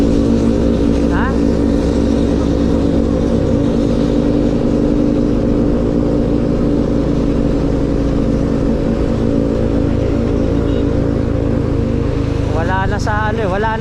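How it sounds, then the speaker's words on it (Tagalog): A motorcycle ridden slowly on a provincial road between Tagkawayan, Quezon and Siruma, Camarines Sur gives a steady, close engine drone that holds without a break, with a brief higher chirp near the end. "Wala na sa motor ang problema natin, kaya ganito tayo kabagal eh."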